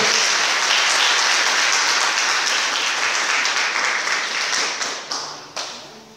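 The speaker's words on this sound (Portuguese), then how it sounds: "Vamos aplaudir a palavra do Senhor." A church congregation applauds during a Portuguese-language sermon, with loud sustained clapping that thins out toward the end into a few last scattered claps.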